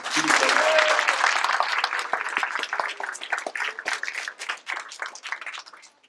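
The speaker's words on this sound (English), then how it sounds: "let's give you a big round of applause" A dense burst of audience applause at a school science fair, many hands clapping together loudly at first and then thinning into scattered claps, with a few voices calling out over it.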